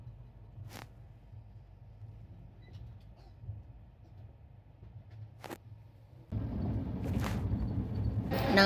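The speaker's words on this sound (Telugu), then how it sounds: "ట్రైన్ స్టార్ట్ అయింది." Train rolling along after leaving the station, heard from inside a carriage: a low steady rumble that swells into louder, denser rattling and clatter partway through, with brief sharp knocks.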